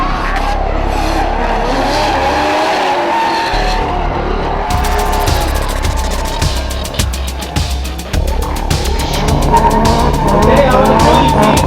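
A car drifts rodeo-style on an autocross course at convention center grounds, its tires squealing loudly and repeatedly over a revving engine, with a voice talking across the sound.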